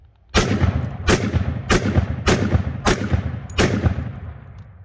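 Six sharp, loud shots from a Hi-Point JXP 10mm pistol fired with a deliberately limp wrist, spaced roughly evenly about two-thirds of a second apart, each blast followed by a brief ringing decay.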